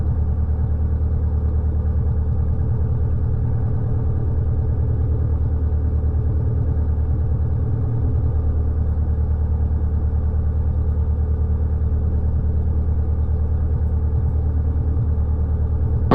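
A light aircraft engine runs steadily at low power before a run-up, a loud, continuous, close rumble with a constant drone and no change in pitch, and no speech over it.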